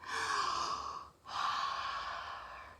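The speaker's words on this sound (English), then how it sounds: "Let's all take a deep breath." A long, soft, breathy inhale or exhale is followed by a brief pause and then a second sustained breath, quiet and close with no words.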